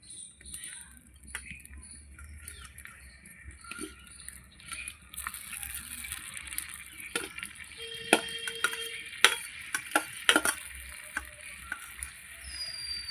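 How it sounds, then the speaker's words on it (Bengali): Fried eggplant goes into a simmering puti fish curry in a pan, giving a soft sizzle with scattered close clinks and scrapes of a spoon against the pan, a brief spatter and quiet background hum. "এবার আমি বেগুনটাও দিয়ে দেবো এই যে ভেজে রেখেছিলাম বেগুনটা এটাও দিয়ে দিচ্ছি"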